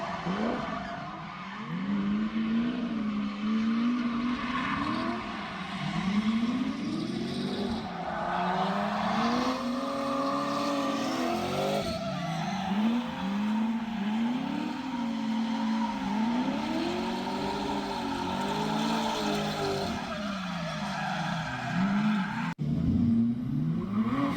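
Two cars drift in tandem with long, wavering tire squeals that rise and fall continuously, over steady engine roar, heard from outside the track.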